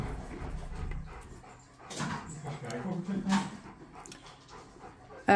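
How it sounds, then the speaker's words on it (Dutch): Several dogs moving about indoors, giving soft whimpers, panting and a few yips amid shuffling, with people talking over them throughout. "Er rennen nu allerlei honden binnen."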